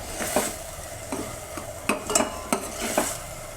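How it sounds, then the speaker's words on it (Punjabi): Chopped onion tadka roasting in a pan for a ridge gourd (turai) sabji, with a steady close sizzle and several sharp scraping stirs of a spoon against the metal, and no voices. "ਤੜਕਾ ਆਪਾਂ 2 ਮਿੰਟ ਭੁੰਨਾਂਗੇ ਜ਼ਿਆਦਾ ਭੁੰਨਣ ਦੀ ਲੋੜ ਨਹੀਂ"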